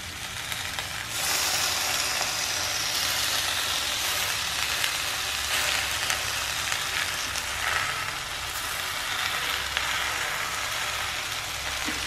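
White sauce poured around chicken and vegetables on a hot frying-pan sizzler sets off a loud, continuous hiss and crackle. The sizzle stays close and steady for the whole stretch, with no one talking over it.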